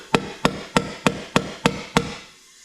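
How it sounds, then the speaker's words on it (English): A brass hammer strikes a rag-covered valve spring retainer on a Ford FE engine head to seat the keepers, seven sharp, evenly spaced metallic taps at close range, then quiet. "We'll take a brass hammer,"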